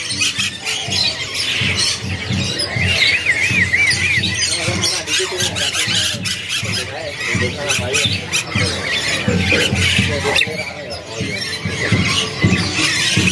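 Asian pied starlings call among many caged birds at a bird market, with squeals and squawks at steady loudness throughout, over busy background chatter and talk.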